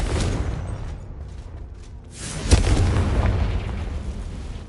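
Confringo spell blast in Hogwarts Legacy after an Expelliarmus cast: a sudden heavy boom lands mid-clip over a rumbling battle background, then rolls on loudly before easing off.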